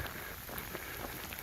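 Steady rain falls on a wet coastal footpath near the Collingwood monument at Tynemouth, a constant soft hiss with faint scattered drops, no voices.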